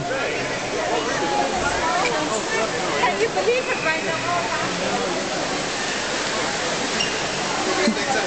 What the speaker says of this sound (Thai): นี่มีน้ำมีน้ำตกด้วยครับผม